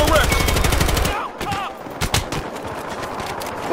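Shotgun blasts and other weapon fire in the video game Battlefield Hardline, a loud burst of rapid shots at the start giving way to scattered booming reports over busy combat noise.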